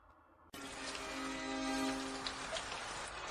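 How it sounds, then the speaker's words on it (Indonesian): Heavy rain falling outside, a dense continuous hiss of drops that starts abruptly and holds loud and steady to the end. "di luar hujan deras sekali"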